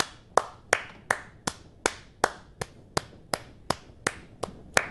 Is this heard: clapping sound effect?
yes